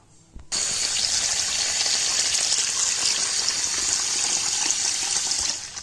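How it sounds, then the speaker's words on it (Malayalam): Water gushes steadily over jeerakasala rice set to soak for ghee rice, a loud, continuous pouring rush that starts abruptly and runs unbroken for several seconds. "അപ്പോൾ നമുക്ക് വെള്ളം ഒഴിച്ചിട്ട് സോക്ക് ചെയ്യാൻ വെക്കാം."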